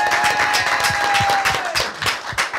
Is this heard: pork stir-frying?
no